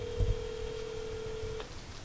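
Outgoing phone call ringing back, a single steady electronic ring tone held for over a second after a brief click, faint and thin over low background noise, with no speech.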